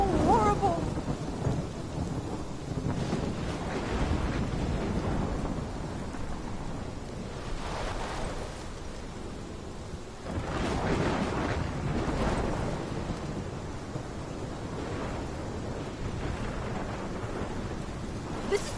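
Thunderstorm in the video game Life is Strange, with steady heavy rain and wind and deep rolling thunder swelling and fading several times, loud and continuous with no talk.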